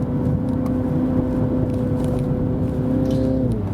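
A Mini Countryman John Cooper Works with a 2-liter 231 hp engine drives at a steady drone, the engine tone holding even and then dropping slightly near the end.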